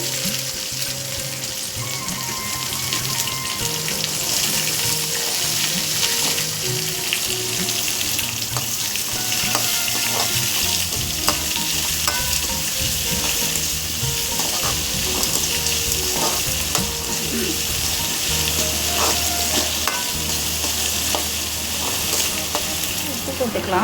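Steady, loud sizzling of chopped onions frying in oil, with occasional clinks and stirring scrapes over the hiss, close up and continuous, while making banana stem stir-fry.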